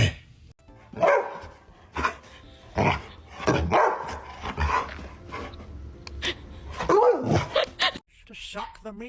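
A small dog gives a few sharp barks and yips between bursts of lively talk and background sound, all recorded at close range.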